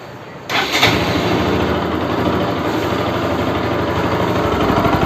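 A Bajaj RS200 motorcycle engine, running after a coolant change, starts abruptly from near-silence and settles into a steady, loud, close idle with a dense even rumble throughout.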